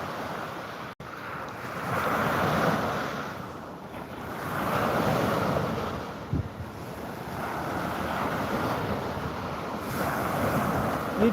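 Ocean waves roll and wash steadily under gusty wind buffeting the microphone, the surf swelling and fading in broad surges with no talking.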